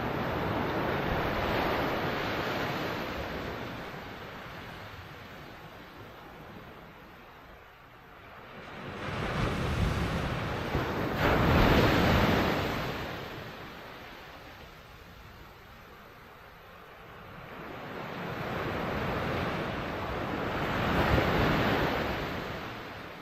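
Sea waves wash onto a cold Southbourne beach as the tide floods in, their broad surges rising and falling in slow swells with steady wind rumble over the microphone.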